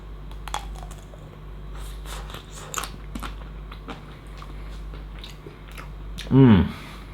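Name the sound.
biting into a Magnum Double Caramel ice cream bar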